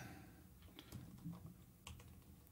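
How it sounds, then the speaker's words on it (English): Fast typing on a computer keyboard, a quick run of faint, soft key clicks close to the microphone over steady low room noise. "I am typing too fast today"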